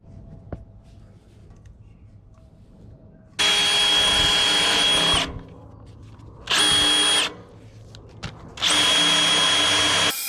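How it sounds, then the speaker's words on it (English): A power drill bores holes in John Deere B tractor fenders for amber lights, three loud bursts of whining drilling, the first about two seconds long and the next two shorter, with faint shop hum between them. "let's start putting holes in these fenders for the amber lights"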